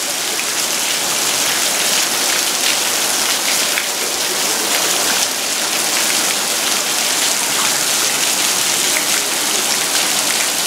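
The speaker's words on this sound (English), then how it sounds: "Just big rain, heavy rain." Heavy rain pouring down during a thunderstorm in a backyard in Moore, Oklahoma, a continuous dense hiss of drops on surfaces, steady and loud with no voices.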